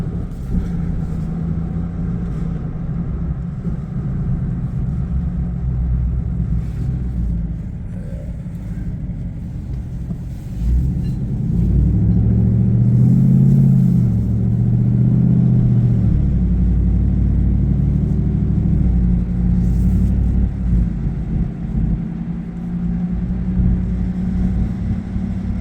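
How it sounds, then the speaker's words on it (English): A 6.2L GMC Sierra with an AWE 0FG dual catback exhaust cruises through a neighborhood, a deep continuous rumble heard from inside the cab with the window down, swelling briefly mid-clip as it accelerates before settling back. "Nice little rumble with the window down."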